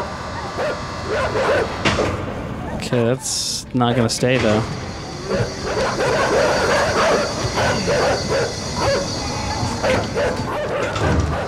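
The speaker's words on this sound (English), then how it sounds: "Oh, they're just barking at me." Dogs in the video game INSIDE bark and whimper in scattered bursts amid rumbling game noise, with a person talking over part of it.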